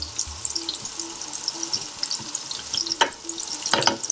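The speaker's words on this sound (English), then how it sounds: "We just want to soften the onion through," Onions sizzle and soften in a pan for a BIR-style chana saag masala, with a steady frying hiss broken by scraping stirs and a couple of louder clatters near the end.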